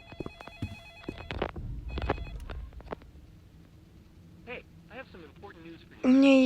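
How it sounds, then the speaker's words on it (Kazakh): A telephone rings in a horror video game, with repeated electronic ring bursts amid speech and game sounds, followed by a loud, sustained tone at the end. "Телефон шырылдап жатыр."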